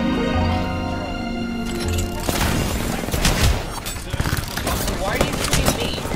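Gunfire in a chaotic Winter Express game match: dense bursts of shots and booms pile up after a tonal opening, continuing loud and close with voices talking over the shooting.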